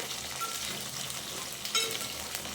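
Okra sizzles steadily in a hot pan while being fried, a continuous close hiss with a brief clink of a stirring utensil near the end.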